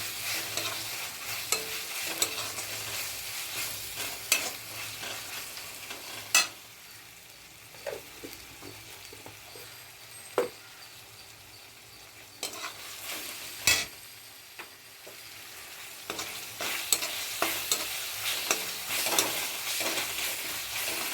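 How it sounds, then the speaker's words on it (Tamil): Ginger garlic paste is sautéed in a pan for prawn biryani, giving a steady low sizzle with scattered scraping clicks from a stirring spoon, fairly quiet and close. "இப்போ நல்லா வதக்கிட்டு நல்லா அந்த பச்சை வாசனை போகிற வரைக்கும் அதை கொஞ்சம் வதக்கணும்"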